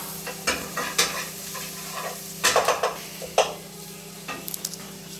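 Onions sauté in a pan with a steady close sizzle, broken by several sharp scraping and clinking strokes of a utensil stirring against the pan, with no voices.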